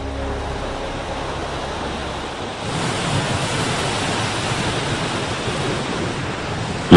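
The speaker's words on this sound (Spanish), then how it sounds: "La alta mar golpea las rocas de la calzada del gigante." Ocean waves strike the rocks of the Giant's Causeway on the coast of Northern Ireland, a steady broadband surf roar that grows fuller and louder partway through, with wind noise on the microphone and no voices.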